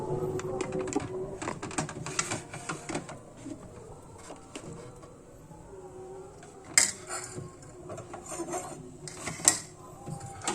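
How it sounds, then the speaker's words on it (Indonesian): Knife chopping chicken liver and gizzard into small pieces for sambal goreng, irregular sharp taps on a cutting board with clinks of kitchen utensils in between, close and fairly quiet. "Saya sekarang akan memotong-motong ati ampela untuk membuat sambal goreng kentang ya."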